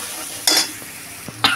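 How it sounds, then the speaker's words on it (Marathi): Masala mixture for gathi shev bhaji frying in oil while stirred, a low steady sizzle broken by two louder scraping bursts of the spoon against the pan, close and without speech. "आता ह्या मिश्रणाला आपण छान व्यवस्थित तेल सुटेपर्यंत परतवून घेऊया"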